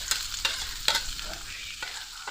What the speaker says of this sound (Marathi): इकडे मी आता तोंडली टाकून घेते तळायला.